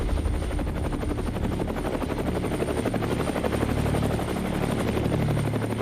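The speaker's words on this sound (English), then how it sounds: "Near the end of shooting, we get a chance to film from a helicopter." A helicopter flies overhead above an industrial steel-mill area. Its rotor chop pulses rapidly and loudly, with a steady engine roar throughout and no voices.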